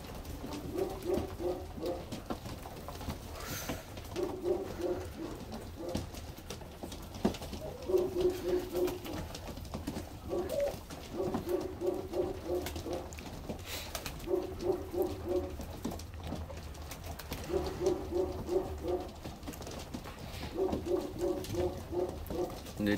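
Ornamental pigeons coo in repeated rhythmic bursts, soft low calls recurring every few seconds over a quiet indoor background, with a few faint knocks and rustles between them.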